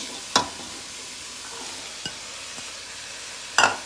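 Cabbage frying in a pan crackles faintly and steadily, with a couple of sharp utensil clanks against the pan at the start and end and a soft scrape in between.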